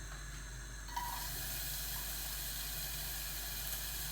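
Onions and carrots hitting a hot oiled pan set off a dense, steady hiss of sizzling that begins abruptly and holds loud and even throughout.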